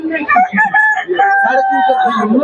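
A rooster crows loudly and close by at a busy market selling chickens, ducks and goats, its long strained call stretching over a couple of seconds, with other fowl clucking and a few voices nearby.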